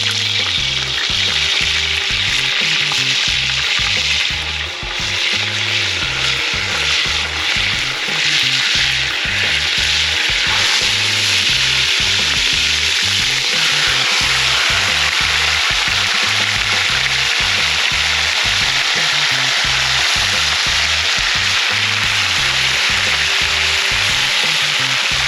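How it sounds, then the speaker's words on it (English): Loud, continuous sizzling of oxtail searing in a hot pot, a steady hiss with faint stirring and clinks underneath, no voices. "Just listen to that sizzle and look at the pretty color."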